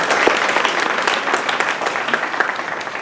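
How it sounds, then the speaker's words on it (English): Audience applause at a community alliance meeting, a dense steady clatter of many hands clapping together for the full stretch, loud and sustained without pause. "Give them all a big round of applause."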